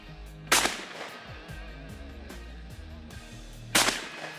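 Two sharp, loud shotgun blasts at a PSCA men's top-eight shooting competition at Caney Creek, about three seconds apart, each with a short ringing tail over steady outdoor background noise.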